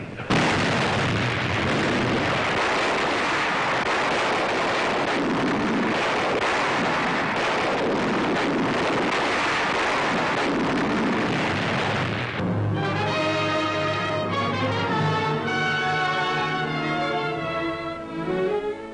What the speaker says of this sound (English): Anti-aircraft batteries open up, a powerful contribution to the United Nations navies.